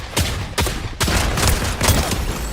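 An iron pump shotgun in Fortnite fires several loud, booming blasts in steady succession about half a second apart, each shot followed by a short rumbling tail.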